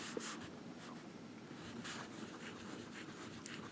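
Waterman fountain pen with a wet, stiff 18k gold nib and red ink, writing on paper: a soft, close scratching with short repeated strokes, heard alone and quiet.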